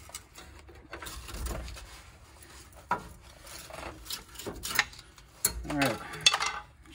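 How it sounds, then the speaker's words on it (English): A pry bar works at a rust-seized rear brake part on a 2016 RAM 1500, making close rasping and scraping metal sounds in irregular bursts with a few sharp knocks near the end. "I'll go ahead and use a pry bar to get this out."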